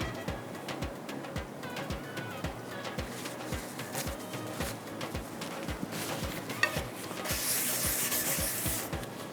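Ingredients sautéing in a pan for mutton masala handi, with repeated soft scraping strokes over a light sizzle, close and fairly quiet, and a rising hiss of frying toward the end.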